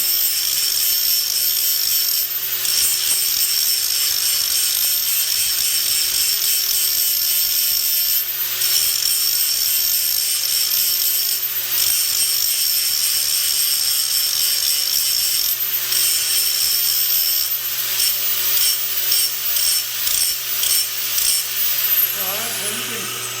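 A hand grinder grinds a bevel, giving a loud, continuous high whine that holds steady across the clip with small dips and surges as pressure shifts, close by.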